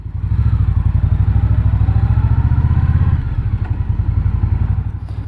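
An Indian Scout Bobber Twenty V-twin motorcycle rides along, its engine a loud, close, throbbing drone that eases slightly partway through as the rider shifts, then carries on at a lower pulse.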